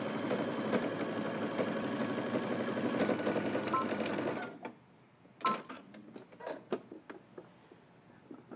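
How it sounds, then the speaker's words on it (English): Home sewing machine stitching a hoodie sleeve seam at 5/8 inch allowance, a rapid steady mechanical whir running for about four seconds, then stopping, followed by scattered quiet clicks and handling taps of fabric and machine parts. "We're gonna stitch all the way across using 5/8 of an inch seam allowance"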